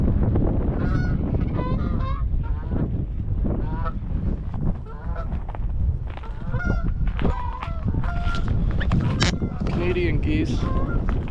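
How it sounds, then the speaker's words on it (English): Canada geese honking near open water in freezing cold, a dense, loud flock calling over one another in overlapping nasal honks throughout, with a voice speaking briefly. "Canadian geese."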